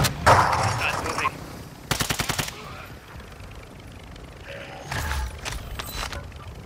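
Bursts of rapid automatic gunfire from the Call of Duty: Modern Warfare II multiplayer video game, several sharp volleys separated by quieter gaps, loud and close, with no talking over them.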